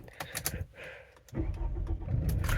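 A 2003 Toyota Camry's engine cranks briefly after a few interior clicks, then catches and settles into a low, steady idle heard from inside the car.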